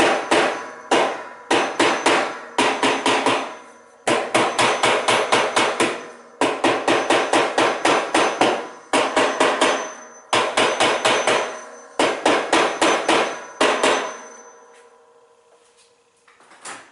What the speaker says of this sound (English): I'm just going to hit it with a hammer a couple times